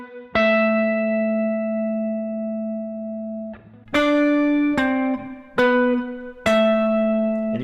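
An electric guitar slowly plays the intro to a song. A ringing chord sustains, then a few distinct plucked notes and chords follow with pauses between them.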